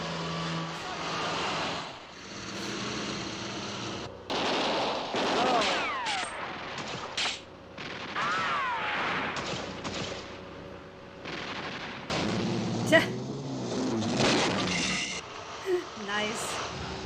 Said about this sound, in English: we're gonna get a car chase